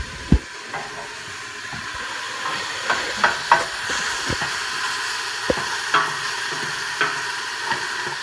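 Porcini mushrooms and zucchini frying in a pan with onions, a steady close sizzle broken by occasional sharp scrapes and taps of a utensil stirring.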